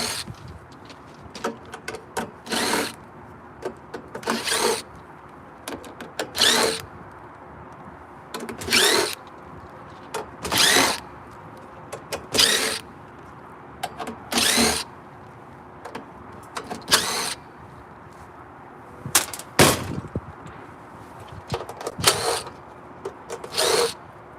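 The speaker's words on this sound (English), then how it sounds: "I'm taking all these screws out, so I've got screws to put the new pieces back together." A power drill spins screws out of a furnace heat exchanger in a long series of short whirring bursts with pauses between, loud and close, with no speech.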